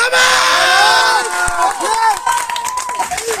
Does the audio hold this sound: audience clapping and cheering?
yes